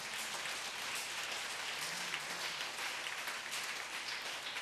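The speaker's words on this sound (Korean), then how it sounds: "우리 박수로 하나님 강화드리겠습니다" Steady applause from a church congregation during a worship service, dense and even, keeping a constant moderate level with no talk.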